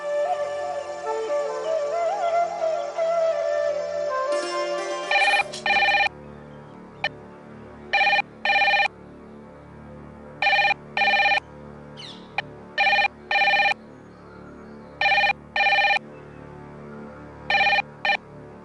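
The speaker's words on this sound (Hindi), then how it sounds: "राधिका, मनसाराम जी का फोन।" Telephone ringing in a home scene from an Indian TV serial, with evenly spaced bursts of bright electronic ringing repeating about nine times after a stretch of background music, loud and close with no talk.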